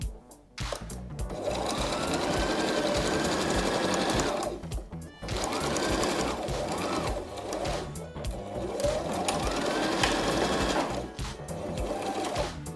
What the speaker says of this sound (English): So we have sewn down the sides.